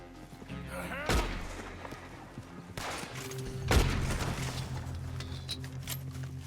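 Gunfire in Red Dead Redemption 2 sounds as two sharp, loud gunshots a few seconds apart, each with a booming tail. A busy background of game sound and music runs between them.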